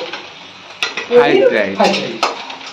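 A metal spatula scrapes and clinks against a pan while fried paneer is folded into fried rice, a few close, sharp knocks over a soft stirring rustle.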